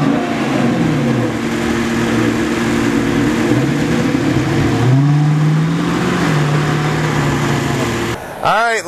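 A 2010 Dodge Challenger R/T with its Hemi engine running steadily and close, the note rising and falling gently as it drives, with speech over it.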